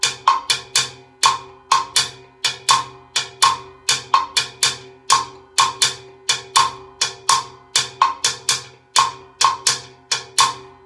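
A percussion instrument plays a repeating Latin rhythm, close and loud, each stroke a sharp woody click, looping steadily over a 3-2 clave feel with a cascara-style pattern on top, no talking.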